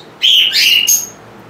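Caged lovebirds at a breeder's let out one short, loud, close chirping call, a quick rising and wavering tweet lasting about a second over a quiet background.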